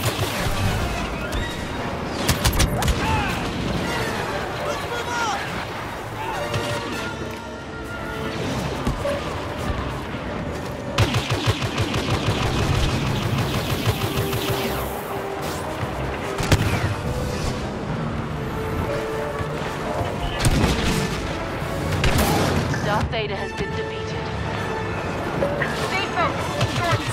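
Star Wars Battlefront battle noise as players attack an AT-AT: continuous blaster fire, crashes and booming explosions layered densely under shouted game voices and speech throughout.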